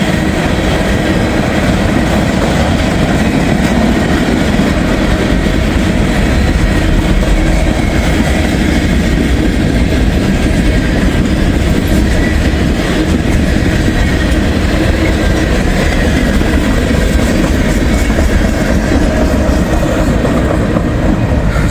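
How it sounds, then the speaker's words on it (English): A huge freight train rolls steadily past close by, a continuous heavy rumble with rhythmic clickety-clack of wheels over rail joints lasting throughout, with no voices. "God, it's a big train."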